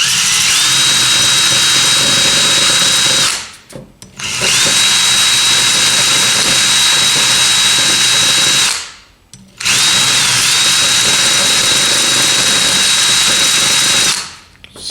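A power drill fitted with a grinding stone whines steadily at high speed while smoothing a burr on a 4R70 part, running in three long bursts separated by brief stops.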